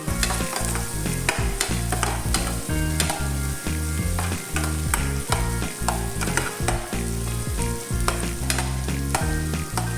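Onions fry in a pan for eggplant adobo, a continuous close sizzle with frequent stirring and scraping clatter and a low steady hum underneath, without any speech.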